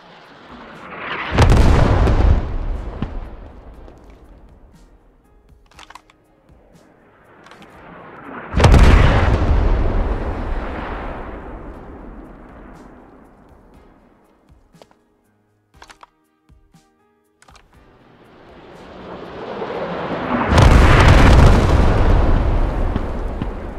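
Three heavy artillery strike explosions in the video game Squad, each a loud sudden boom followed by a long rumbling decay, spaced several seconds apart with quiet gaps between.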